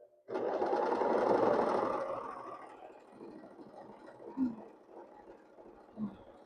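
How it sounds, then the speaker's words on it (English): A sewing machine stitching quilt rows together, a close, steady motor whir for about two seconds, then fading into quieter handling noises with a couple of soft knocks. "And then I can sew the rows together."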